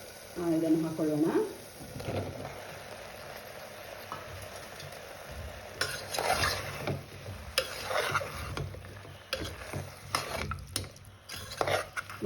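Halved mushrooms tipped into a frying pan for mushroom biryani, followed by scattered scraping and stirring strokes with a soft sizzle; a voice speaks briefly near the start.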